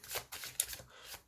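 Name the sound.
playing cards being shuffled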